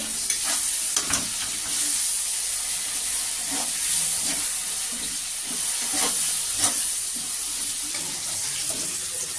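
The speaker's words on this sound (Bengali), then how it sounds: "এবার আমি বেগুনটাকে লালচে লালচে করে ভেজে নেব" Eggplant seasoned with turmeric and salt fries in hot oil, giving a dense, continuous sizzle with intermittent scraping stirs, close and loud throughout.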